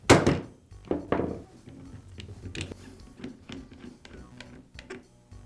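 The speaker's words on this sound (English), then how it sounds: "Then I'll use a rubber mallet to quickly strike the Allen wrench" Rubber mallet striking an Allen wrench set in a DeWalt drill chuck to break it free: one sharp knock, then a second, followed by lighter ticking and rattling taps, close and clear without talk.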